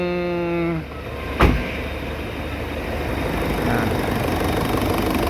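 A 4JX1 engine idles with a steady low rumble after a brief beeping tone and a sharp click, running evenly and fairly loud throughout.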